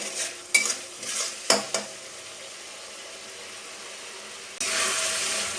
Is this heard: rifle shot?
no